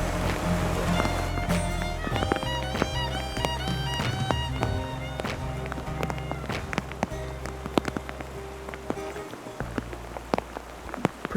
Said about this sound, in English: this rain's changing from fine rain to big fat rain